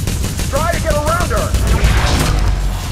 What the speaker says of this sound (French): On peut essayer le spammer, l'arme à distance de Nilin.